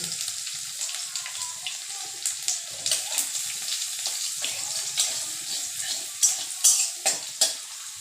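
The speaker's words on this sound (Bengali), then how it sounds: "তেল গরম হয়ে গেছে দিয়ে দিলাম রসুন খেতো সামান্য একটু পাঁচ ফোড়ন" Garlic and a pinch of five-spice seeds hit hot oil in a vegetable pan, giving a steady close hiss with crackling spits and several sharper pops toward the end, no talking.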